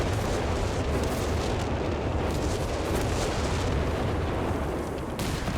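Walking Stuka rocket artillery barrage in Company of Heroes 3 during a 4v4 match, a dense continuous roar of launches and explosions rumbling loudly throughout with no talk.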